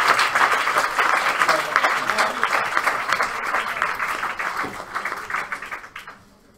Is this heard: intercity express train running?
no